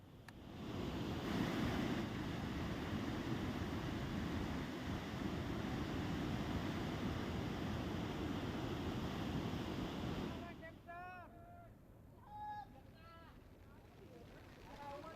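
Loud, steady roar of rushing water from seven open dam gates after heavy rain fills most of the stretch, then cuts away to quieter sound with a few faint chirps and calls.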